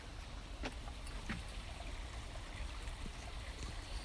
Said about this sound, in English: There's water flowing.